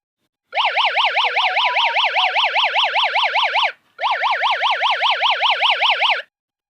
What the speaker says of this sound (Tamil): அதுவும் சத்தமாக அலாரம் அடிக்கும்.